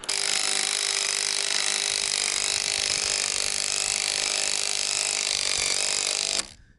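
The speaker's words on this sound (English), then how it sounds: "So I'm just shredding the top of that bolt." A power tool grinds down the top of a bolt during a sill plate installation, giving one loud, harsh, continuous whine lasting about six seconds before it cuts off abruptly.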